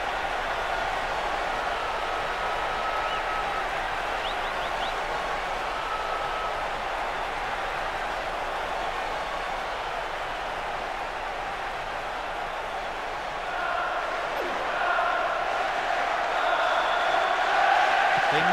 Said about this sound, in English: That strike has just brought so much excitement and cheering.